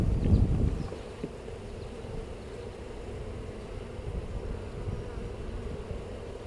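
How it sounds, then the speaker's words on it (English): Honey bees buzz in a steady low drone around an open hive during an inspection, with a louder burst close to the microphone at first, then a continuous hum under light wind noise. "Trying to escort these bees up where I want them."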